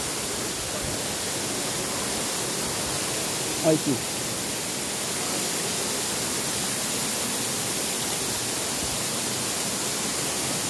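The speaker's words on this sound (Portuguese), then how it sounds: "Aí tem um cachoeiro aqui, ó." Steady broadband rush of a waterfall at Barra do Garças, Mato Grosso, a constant roar of clear water filling the whole scene while someone speaks briefly over it.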